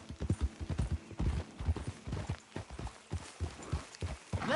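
Horses walking in Red Dead Redemption 2, hooves thudding in an irregular, overlapping clip-clop rhythm, close and fairly loud with no talk over them.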